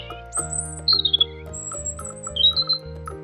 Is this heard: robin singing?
yes